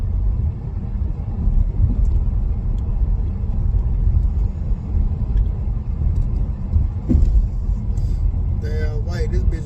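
A car driving on the highway after axle and brake work makes a constant, loud low rumble from inside the cabin, with a few faint chirps near the end.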